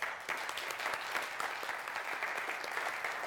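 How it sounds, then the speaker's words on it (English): A trading conference audience in London gives a round of applause for the event's sponsors, a dense, even burst of many hands clapping throughout, without speech on top. "could we just get a round of applause for our sponsors?"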